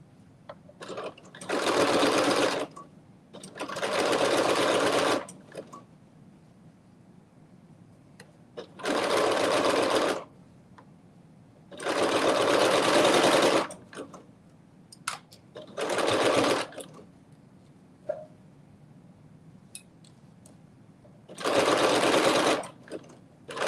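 A sewing machine stitching the lining of a fanny pack, with six or seven bursts of rapid mechanical whirring separated by short pauses, close and clear, with no talking.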